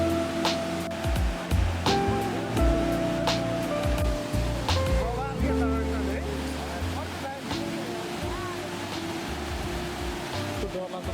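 A rushing mountain stream on a Japanese hiking trail near an old railway line keeps up a steady watery hiss throughout, with voices and tonal sounds layered over it.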